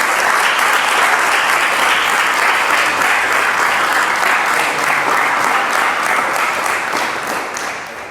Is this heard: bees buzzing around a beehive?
no